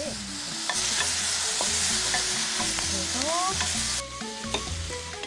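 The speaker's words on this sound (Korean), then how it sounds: "지글지글 맛있는 소리가 나도록 파프리카와 생선살을 잘 섞어" Paprika and fish fillet stir-fried with a seasoning sauce in a hot pan give a steady, close, loud sizzle, with utensils stirring and scraping throughout. No one speaks.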